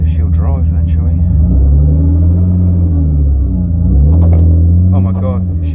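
A BMW E36 drift car with two flat rear tyres rumbles along at low speed, a loud, close, deep engine drone that rises and falls, with a person talking over it at the start and end.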